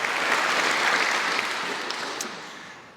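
An audience at a community celebration event gives a round of applause, dense clapping filling the room and slowly tapering off toward the end, with no speech over it.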